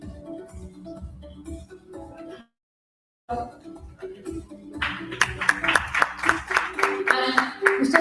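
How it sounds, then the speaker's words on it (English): Audience applause breaks out at a live BEAT 2025 event as speakers are honoured on stage, a dense, loud burst of clapping that swells over the last few seconds after a brief pause in the room sound. "Let's have a round of applause for their amazing insights."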